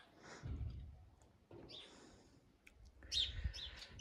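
Faint bird chirps from a nest come in short bursts, the brightest near the end, mixed with soft rustling and low background rumble.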